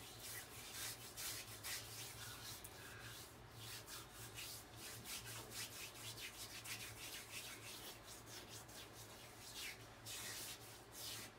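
Shaving brush working lavender-scented lather into its bristles, a steady close-up swishing and rubbing that runs unbroken and fairly loud, with no voices.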